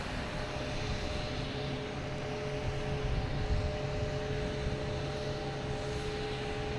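Steady low roar and engine drone of a British Airways airliner at Boston Logan Airport, continuous and moderately close, with a faint tonal whine over broadband rumble and no talk.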